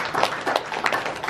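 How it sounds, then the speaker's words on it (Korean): A church congregation claps in a brief, loose burst of hand claps at moderate volume, with no voices over it. "이럴 땐 박수 좀 쳐야 돼요"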